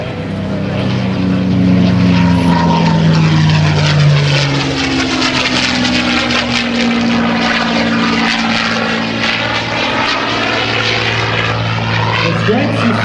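A propeller plane roars past close by, its engine note sweeping down in pitch as it passes, loud and sustained.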